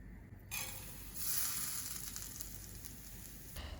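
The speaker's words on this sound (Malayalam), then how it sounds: "ഇത് ഒരു 5-10 മിനിറ്റോളം വറുക്കണം" Oats roasting in a tablespoon of ghee in a pan give a soft, steady sizzle and faint crackle, quiet and close, with a brief swell of hiss partway through.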